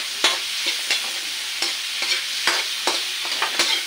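Shrimp, previously frozen and lightly seasoned, sautéing in a pan for buttered shrimp fried rice: a steady close sizzle broken by repeated sharp scrapes and clacks of a spatula stirring, with no voice.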